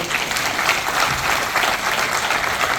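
A theatre audience applauds a play continuously, a thick, even wash of many hands clapping at close range with no break.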